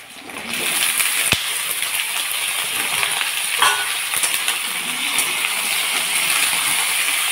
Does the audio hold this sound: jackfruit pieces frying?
yes